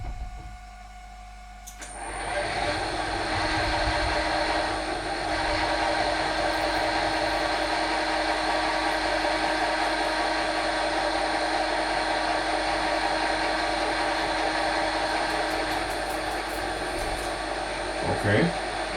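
A drill bores a 9 mm hole in a control-box face plate clamped in a vise, kicking in after a brief pause and then whirring as a steady, close, continuous whine until the end.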